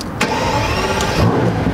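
A 2014 Mercedes-Benz SL 65 AMG fires up close by, a loud, steady engine roar with a sharp burst near the start and a rising surge toward the end, no talk.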